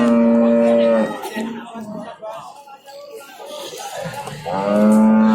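Cattle moo loudly twice at a livestock market in Jatirogo, Tuban, a long low bellow at the start and another at the end, with muffled voices and market bustle in between.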